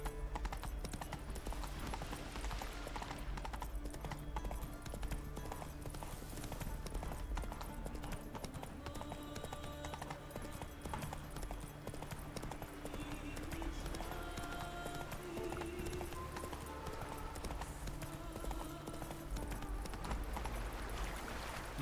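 Horse Roach's hooves clip-clop steadily in Witcher 3, set in Skellige, a continuous mid-level trot beneath layered game music and ambience, with a voice speaking briefly.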